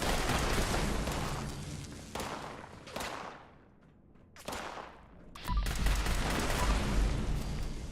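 Rapid semi-automatic gunfire in Fallout 76, dense bursts of loud shots that ease off briefly mid-clip before resuming even heavier, with no talking.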